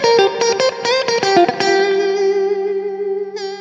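Bright, clean Fender Stratocaster lead phrase: a quick run of plucked notes settling into a long sustained note with gentle effect shimmer, played alone.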